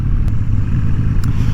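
A Harley-Davidson Sportster motorcycle engine rumbles loud and close while riding, a steady low throb with faint clicks over it.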